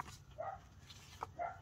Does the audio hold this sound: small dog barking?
yes